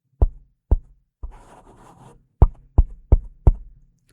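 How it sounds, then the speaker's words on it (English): Fingertip taps on the cover of a Fifine AM8 microphone, seven sharp, close knocks spaced unevenly, with a brief soft rustle in between. "Now I tap a bit onto the cover of the mic."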